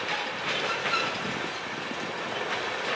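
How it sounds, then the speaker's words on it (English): Freight train with a string of brand-new tank cars rolling past close by, a continuous loud rumble with rhythmic clickety-clack from the wheels and faint squeals, no voices. "dang, he's got a bunch of brand new tankers."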